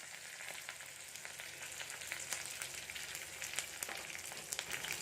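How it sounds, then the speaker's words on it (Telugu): Mustard-type seasoning seeds and curry leaves crackle and spit in hot oil for a radish chutney tempering, a dense close sizzle with sharp irregular pops growing livelier toward the end, no voices. "సో ఆయిల్ కాగిపోయిందండి, చూసారు కదా, చిటపటలాడుతుంది"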